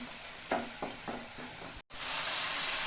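Spice paste (masala) frying in a pan for an egg and soybean curry: a dense hiss with a few quick stirring scrapes, a momentary break, then a louder, fuller sizzle that holds steady to the end.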